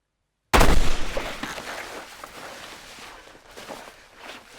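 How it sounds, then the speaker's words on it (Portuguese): A single loud gunshot in a film scene set in the woods, an abrupt blast after silence, trailing into a long rumbling decay with faint rustling. "alguém dá um tiro na direção dele e quase pega nele."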